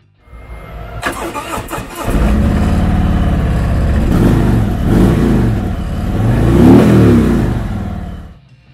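A 2017 Harley-Davidson Road King Special with ABS starts up close by, cranking into a loud, lumpy V-twin idle, then is blipped in a few throaty revs that rise and fall before shutting off.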